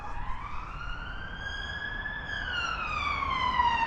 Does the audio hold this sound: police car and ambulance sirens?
yes